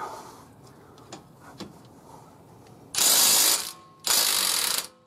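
A Milwaukee Fuel compact impact wrench loosening a nut fires two loud, close bursts of rapid hammering, each lasting under a second, after a stretch of quiet workshop handling noise.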